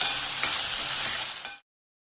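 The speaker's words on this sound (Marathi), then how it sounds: "कांदा छान परतून द्यायचा आणि लगेचच त्यात टोमॅटो टाकून घ्यायचे" Onion and tomato sizzle loudly while being stirred in a hot pan, a dense continuous frying hiss with faint scrapes. It cuts off abruptly near the end.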